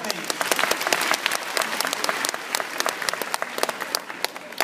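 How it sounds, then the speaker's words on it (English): An audience at a science festival show in Moscow gives a big, loud round of applause, dense sharp claps filling the room continuously from start to finish. "Give her a big round of applause"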